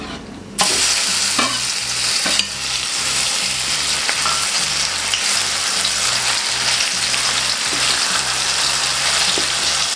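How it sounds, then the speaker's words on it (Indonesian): Ground spice paste for Balinese pork soto frying in a pan, a loud continuous sizzle with stirring scrapes, no talk. "saya melanjutkan menggoreng bumbu yang saya haluskan tadi"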